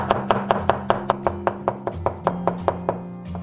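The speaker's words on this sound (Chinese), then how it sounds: "然后切成蒜末" A knife chops garlic into fine mince on a cutting board, sharp steady strikes at a quick even rhythm, close and clear over a low background hum.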